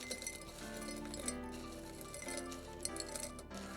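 Ice clinking in a tall drinking glass, light glassy taps and a couple of sharper clinks over a soft, steady background hum, quiet and close, with no voices.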